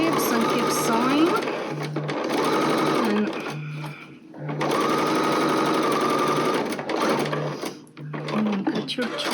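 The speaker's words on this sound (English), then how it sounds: "just keep removing your clips and keep sewing" A sewing machine stitches a fabric project bag in steady, continuous runs of rapid whirring, pausing briefly twice between passes, loud and close with no talk.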